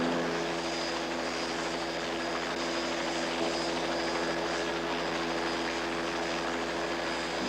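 A helicopter runs loud and close, its rotor and engine giving a steady, unbroken drone with no other sounds over it.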